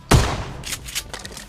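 In the BGMI battle royale game, a sharp close gunshot cracks out, followed by a few quicker, fainter shots in a short burst.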